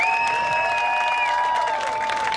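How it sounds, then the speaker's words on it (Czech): An audience claps for a performer at a drag show aboard a river steamboat: a short burst of crowd applause with a sustained high whistling tone riding over it. "Obrovský potlesk pro ní."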